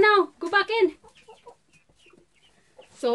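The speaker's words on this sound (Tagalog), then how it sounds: "Tumutulaok-tulaok na ang aking manok" A farm rooster crows in two bouts: a loud, strained call fills the first second, a quieter stretch of faint clucking follows, and a second crow begins sharply near the end.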